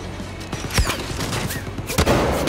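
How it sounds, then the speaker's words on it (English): Gunfire in the shooter game Far Cry 5 sounds as a burst of sharp, loud cracks and rapid shots in quick succession, close and dense over a couple of seconds, with no talking. "We shoot a sniper."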